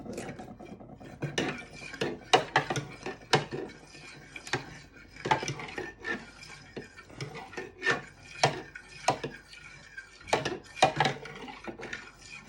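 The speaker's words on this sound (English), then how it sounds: "a drop of vanilla extract to your mixture, and you give that a good stir" A spoon stirs custard mixture with a drop of vanilla extract in a bowl, making uneven scraping and rubbing strokes with light clinks, close and fairly quiet.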